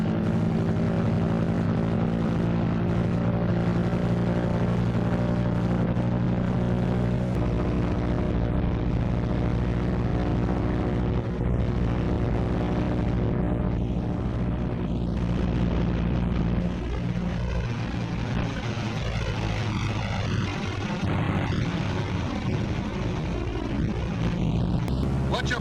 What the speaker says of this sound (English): Next is the engine run-up and prop check, one engine at a time.